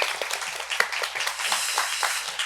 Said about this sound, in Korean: 이렇게 박수 한번 보내드릴까요?